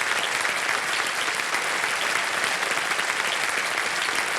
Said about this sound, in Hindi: जरा तालियां बज जाए इनके लिए।